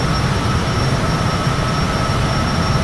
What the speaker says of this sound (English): I'm just being blasted in the ears with that jet engine